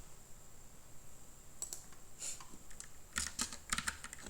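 Keyboard typing while coding Java in IntelliJ IDEA: quiet at first, then sparse, crisp key clicks that grow into a quick cluster of taps near the end, with no voices.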